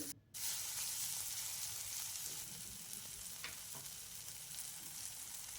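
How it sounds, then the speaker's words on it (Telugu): Vegetables and tomato pieces frying for cauliflower rice, a continuous bright sizzling hiss that starts abruptly and holds steady, with a few faint stirring clicks. "ఇలా బాగా ఫ్రై చేసేసుకొని తర్వాత టమాటా ముక్కలను కూడా వేసేసుకొని కలుపుకుంటున్నాను"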